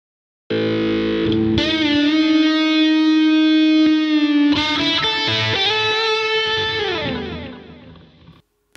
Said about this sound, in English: I want the DS1 for this sound with quite a bit of gain. In addition to that, I want a slight phasing sound